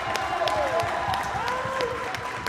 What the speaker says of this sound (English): it was really just a loud cheer for Eric Perez